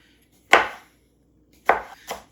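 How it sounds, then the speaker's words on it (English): A knife chops pickles on a cutting board in three crisp strikes: one at the start, then a close pair near the end, loud and close with silence between. "So I'm going to cut these pickle kind of fine."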